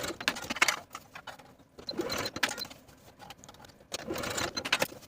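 A sewing machine basting fabric shoulder ties in place on a crop top, running in three short bursts of needle patter with brief pauses between, close and moderately quiet, no voices.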